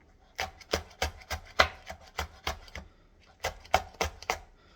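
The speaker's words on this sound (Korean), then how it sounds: "이렇게 바닥에다 대고 칼을 그래야 손도 안 다치고 잘 얇게 썰 수 있어요" A kitchen knife thinly slices bangpung (coastal hog fennel) greens on a cutting board, giving crisp, evenly spaced chopping taps in two quick bursts separated by a short pause.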